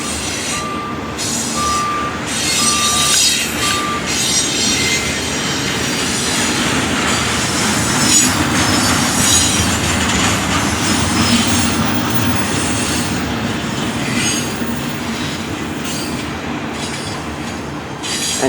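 A long freight train carrying trailers on flatcars rolls past beside Interstate 15 in San Bernardino, a loud continuous rumble and clatter of wheels with a faint squeal and some beeping early on, steady for the whole stretch.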